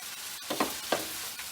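Hakka noodles frying in a pan are stirred and scraped, two or three brief scraping strokes over a quiet background sizzle, close but faint.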